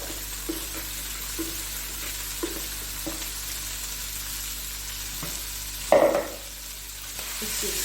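Chicken for a potato roll goes into a hot pan and sizzles steadily in oil, with soft stirring clicks and a sudden louder hiss near the end, heard close and without speech.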